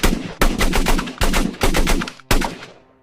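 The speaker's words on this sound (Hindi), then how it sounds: "गोलियों की गड़गड़ाहट से पूरा बाग दहल उठा" Loud volleys of rapid gunfire for a Jallianwala Bagh massacre scene, firing in five close bursts with brief gaps, the last burst trailing off into echo, with no talking.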